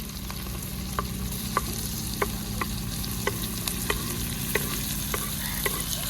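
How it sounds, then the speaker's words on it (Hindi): Roughly chopped onions frying in a pan with cashews, garlic and ginger for paneer butter masala, a steady low sizzle throughout with a spoon stirring and scraping in regular clicks about every half second, no talk. "इसमें ऐड कर देते हैं हम रफली कटी हुई प्याज।"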